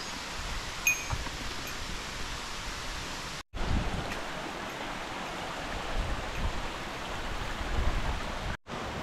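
Mountain stream water rushing along a trail on Sengamine in Japan, a steady broadband wash at close range, continuous and alone apart from two brief dropouts.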